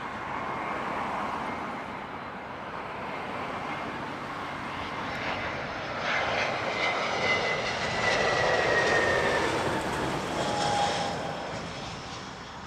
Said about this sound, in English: that is Virgin Atlantic 92 inbound from Orlando on an A350 1000